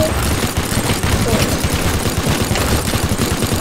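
A minigun firing in the Teardown video game gives a loud, continuous rapid burst of gunfire that runs without a break and fills the whole stretch.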